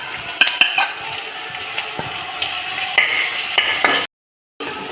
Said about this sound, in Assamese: পিঁয়াজটো আমি গল্ডেন ব্ৰাউন হোৱালৈকে ভাজি ল'লোঁ